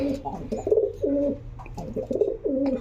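Pigeons coo in repeated low, throaty phrases, close by and steady across the clip, with faint chirps above.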